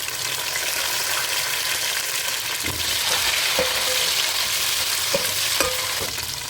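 Tomatoes go into a hot pan with cumin and spices while pulao is cooked, giving a steady sizzle and frying hiss, with several sharp clinks of a spoon stirring against the pan.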